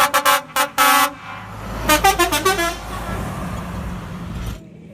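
A toy DHL container truck honks its horn in loud repeated blasts, a quick cluster of short toots followed by a longer run of rhythmic beeps, close and clear before fading into a low hum.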